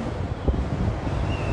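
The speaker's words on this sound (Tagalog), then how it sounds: "At ang lakas po ng hangin." Strong wind gusts at a hilltop Big Buddha viewpoint, a steady low roar buffeting the microphone without a break, with no voices over it.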